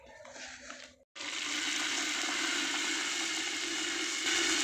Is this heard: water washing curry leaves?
yes